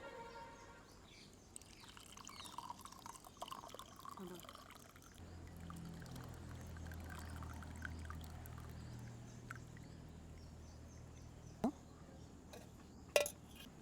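A hot herbal decoction (kadha) is poured from a pot into a glass: a soft, steady pouring wash for several seconds, faint and quiet, followed by a couple of small clinks.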